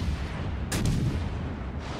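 A single heavy gun salvo from the Italian tier 4 cruiser Montecuccoli in World of Warships Legends, a sharp booming blast followed by a short rumbling tail over a steady low background hum.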